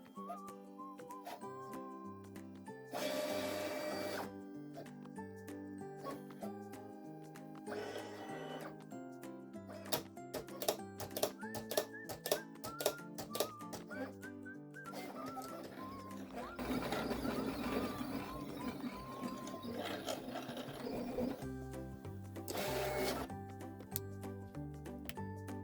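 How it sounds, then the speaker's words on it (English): A cutting machine registers a PixScan mat, giving off quiet whirring bursts, ticks and rising motor whines that start and stop in uneven stretches. "The machine will register the exact same way as if you were doing a print and cut."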